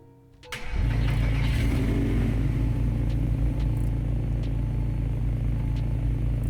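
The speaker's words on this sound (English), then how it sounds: "Alright, so here is the startup." A car engine in the video game Greenville cranks briefly and catches, then settles into a loud, steady, deep idle rumble with a faint high whine above it.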